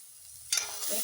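Sliced onion frying in oil in a pan for a Malvani-style bitter gourd dish, a soft sizzle rising suddenly halfway through with stirring noise, close and fairly quiet, with no one talking.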